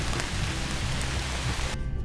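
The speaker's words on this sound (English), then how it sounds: "Here the rain's starting to pick up a little bit." Rain falling at a backpacking camp with a hammock strung up, a dense, even hiss of drops on surfaces that holds loud and steady before cutting off near the end.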